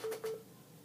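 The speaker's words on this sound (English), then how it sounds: "My phone ringing." A phone rings with two short electronic beeps in quick succession, fairly soft and alone.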